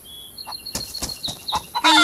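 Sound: rooster clucking in DayZ video game

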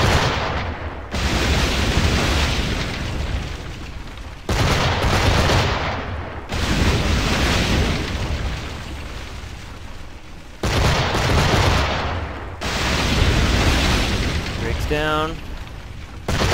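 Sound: fortress cannon fire in video game Assassin's Creed IV Black Flag

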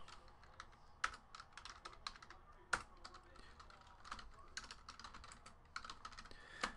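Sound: typing on a computer keyboard

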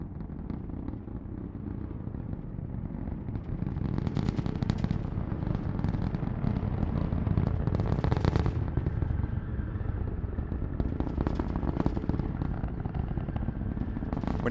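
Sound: rocket engines roaring during launch

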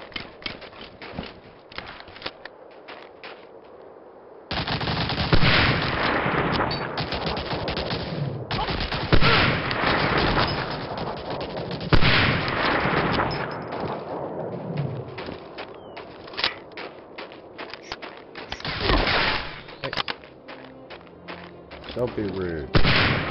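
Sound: gunfire in the video game Medal of Honor Allied Assault

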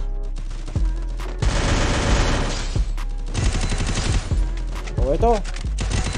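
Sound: gunfire in video game Free Fire training

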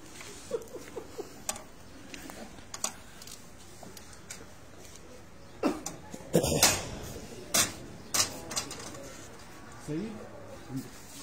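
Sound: pigeons cooing on a rooftop

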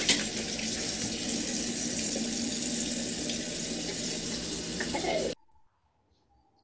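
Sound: rinsing under running tap water

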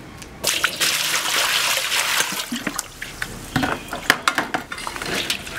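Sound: washing pig liver under water

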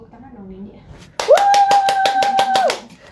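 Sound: applause, hands clapping

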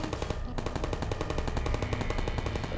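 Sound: turret gunfire in the video game Portal

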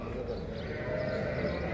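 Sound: lambs bleating at livestock market

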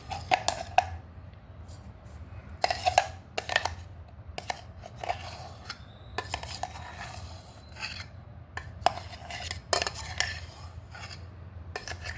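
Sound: mango puree being spooned into a bowl

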